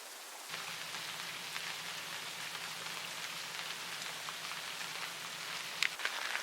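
Steady rain drums on a sailboat anchored at sea in the Pacific, a dense, even patter with a faint low hum running underneath and a few louder drips near the end.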